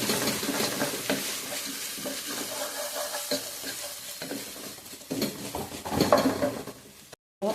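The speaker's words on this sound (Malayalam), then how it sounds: "ഇഞ്ചിയും വെളുത്തുള്ളിയും കൂടെ അരച്ചതൊരു 1/2 സ്പൂൺ ഞാൻ ചേർത്തിട്ട് കൈകൊണ്ട് വഴറ്റിക്കുക" Ginger garlic paste sautéing in ghee in a pan for ghee rice, with steady sizzling frying and repeated stirring scrapes throughout, close and moderately loud, no talking.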